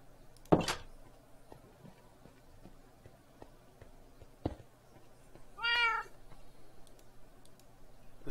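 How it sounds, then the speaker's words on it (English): An ocelot meows once in Minecraft on an FTB Stone Block 2 modded world, a clear single call amid sparse clicks and small game sounds. "Another ocelot."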